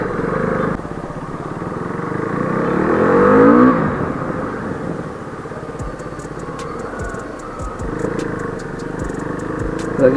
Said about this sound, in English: Have to open the throttle, then again brake.